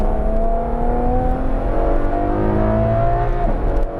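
A Ferrari 812 accelerating at part throttle, its engine note a loud, steady roar from inside the car with tones climbing smoothly as it pulls. No voices.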